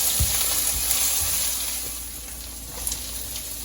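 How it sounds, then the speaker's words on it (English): Onions and small chilies frying in a pan for Egyptian ful medames, a soft continuous sizzle with a few low knocks of stirring at the start, fairly quiet and steady. "add the onions and stir for 2 minutes"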